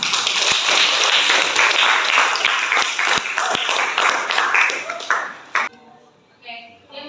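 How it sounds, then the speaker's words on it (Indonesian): Classroom applause after a student's presentation, dense clapping from a group of students lasting about five and a half seconds, then fading into quieter room noise and a few scattered sounds. "Beri aplaus."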